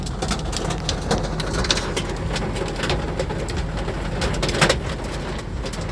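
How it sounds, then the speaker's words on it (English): Large hail falls during a tornadic North Carolina thunderstorm, a dense steady patter of hard impacts with occasional louder knocks close by, continuous and without speech. "Look at the size of this hail,"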